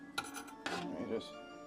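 Spoon stirring Cajun mac and cheese in a pot, a few soft scraping clinks of utensil against metal in quick succession, close and fairly quiet with faint background hum.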